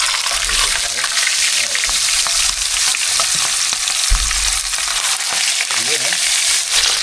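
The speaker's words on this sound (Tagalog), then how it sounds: "Iprito po natin yung iba nating nahuli." Steady, loud sizzling and crackling of fish frying in hot oil fills the clip, with occasional soft clinks and bumps underneath.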